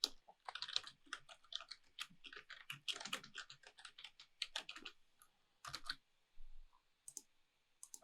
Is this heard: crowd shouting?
no